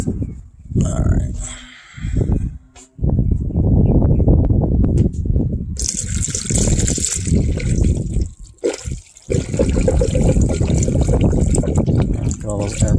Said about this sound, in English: I'm just gonna pour coolant into the radiator to top it off